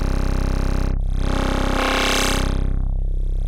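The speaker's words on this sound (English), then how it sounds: "That's the sound of dispersion right there" Additive synth patch with heavy phase dispersion sweeping downward then back up, a dense, smeared, watery tone that holds steady and loud throughout with no voices.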